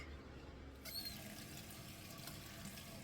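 Water splashing and running close by as a face is rinsed at a sink, a steady wet wash with small splashes and a brief squeak early on.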